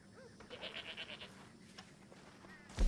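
A goat bleats in Red Dead Redemption 2, a few short wavering calls heard at low level over quiet game ambience.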